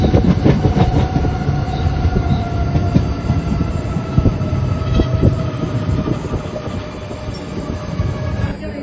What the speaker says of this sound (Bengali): পশ্চিম বর্ধমানের দুর্গাপুরে আমাদের ট্রেন ঢুকলো